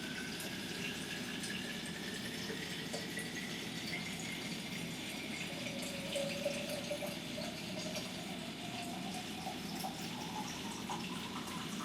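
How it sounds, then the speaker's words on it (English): Filtered water pouring steadily into a mason jar, a continuous soft gush with a pitch that rises gradually as the jar fills, quiet and uninterrupted with no talking. "Then you're going to fill it up with filtered water."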